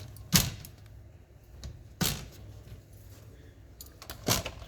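Three sharp clacks from the screen door latch of a 2019 Travel Lite Extended Stay 800x truck camper as it is released and opened, close and distinct over a quiet background.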